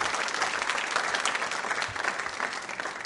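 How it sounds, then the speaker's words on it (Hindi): Loud, continuous audience applause from a crowd at a school quiz show, dense clapping filling the whole stretch without pause. "इस संकल्प के लिए तालियां बजाइए जोरों से।"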